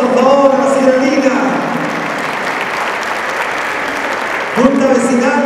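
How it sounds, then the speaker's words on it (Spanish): An audience at a neighborhood association leaders' dinner applauds for a few seconds, a broad wash of clapping sandwiched between stretches of amplified talk at the start and end. "Fuerte el aplauso, por favor, a la señora Lina."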